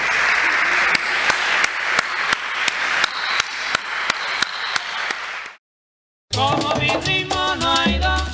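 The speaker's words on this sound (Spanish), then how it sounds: "Despidámoslos con un aplauso." Audience applauds the poets of the first panel at an international poetry festival, a steady crowd of claps lasting several seconds before cutting to a short silence, then music begins.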